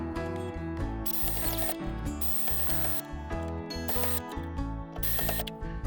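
Ratchet wrench tightening the mounting hardware of a Power-Pole Micro Anchor on a Hobie Pro Angler kayak, giving steady, close mechanical clicking that runs continuously throughout with brief pauses.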